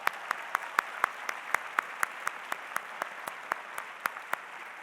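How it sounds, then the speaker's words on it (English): Sparse, sharp handclaps ring out at a university School of Education graduation commencement, a steady run of distinct claps in a large hall. "Let's give yourselves a round of applause."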